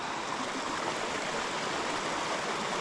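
A stream on the Appalachian Trail, swollen after heavy rain, rushes in a steady, loud broadband roar with no pauses and no voices.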